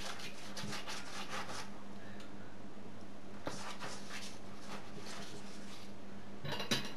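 A brush spreads butter across stacked yufka sheets for baklava, giving a quiet, repeated rubbing and swishing in short strokes, with a few soft taps and clinks against the tray.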